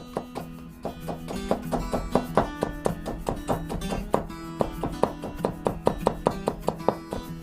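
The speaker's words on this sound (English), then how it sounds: "Then line up the slices and cut them into strips." A knife cuts thin ginger slices into strips on a board, a quick run of crisp, evenly spaced chopping taps up close with a steady rhythm and no talking.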